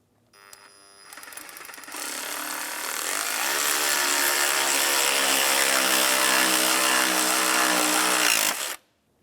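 A power tool drives a 7/32 socket to tighten a hose clamp on an Acura MDX engine, a loud continuous whirring motor run lasting several seconds before stopping abruptly.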